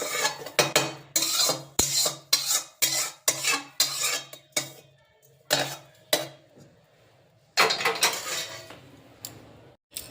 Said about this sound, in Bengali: এবার শিলের মধ্যে নিয়ে নিচ্ছি।